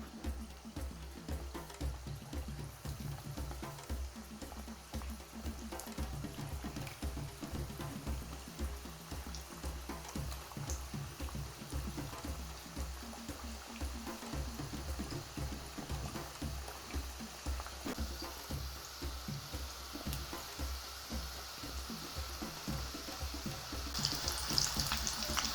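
Meat pastels fry in hot oil, a soft, continuous bubbling crackle that stays fairly quiet and even for a long stretch, with a slight rise near the end.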